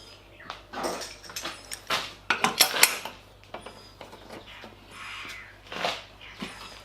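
Steel 50 by 50 box section is clamped with welding clamp squares, giving a run of close metallic clanks, scrapes and knocks in irregular bursts.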